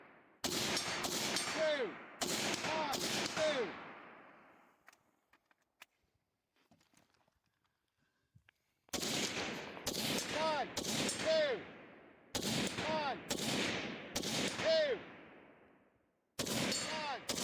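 Rifle gunfire on a long-range stage at a two-gun competition match, heard as loud clustered shots in bursts separated by a quiet gap, each crack followed by a short ringing decay.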